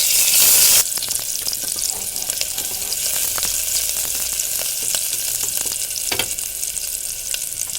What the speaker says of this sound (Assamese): এতিয়া ইয়াত কাটি লোৱা পিঁয়াজখিনি দি দিছোঁ।